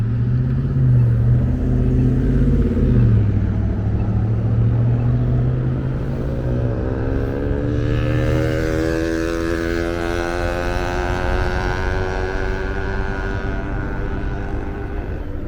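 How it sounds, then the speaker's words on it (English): A bicycle fitted with a 2-stroke engine passes close on a city street, its high buzzing whine rising and then fading as it goes by over a steady traffic rumble. "That guy had a 2-stroke engine on that bicycle."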